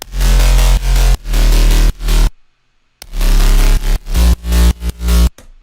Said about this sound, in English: The next part of this is the bass, which sounds like this altogether.